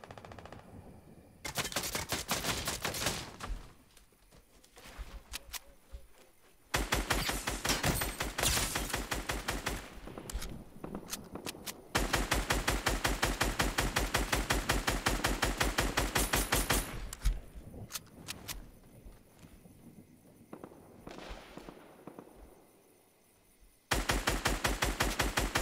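Sustained automatic gunfire in Fortnite, with long rapid bursts broken by short pauses, loud and close throughout with no talk.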